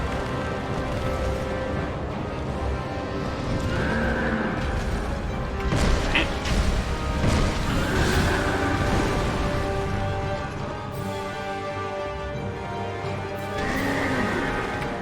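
Repeated horse whinnies in Dark Souls II: Scholar of the First Sin, over a steady bed of game music and clip-clop hoofbeats, fairly loud and recurring every few seconds.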